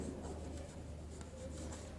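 Chalk or marker scratching the date onto a classroom board, a soft continuous scraping and rubbing heard close and faint with no talking.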